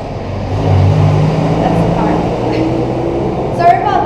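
A car passes outside a house in a city, a soft low rumble swelling and fading in the background while someone talks over it.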